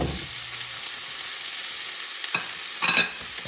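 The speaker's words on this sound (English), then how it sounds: "give it a good stir here" Vegetables frying in a pan for Hakka noodles are stirred, a steady sizzle running throughout with a few scraping stir strokes near the end, close and moderately loud, no voices.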